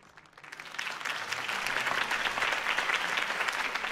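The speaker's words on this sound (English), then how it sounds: "could have heard that applause" A crowd applauds loudly in Batman: The Telltale Series, clapping swelling in within the first second and then holding steady as a dense, continuous roar of hands.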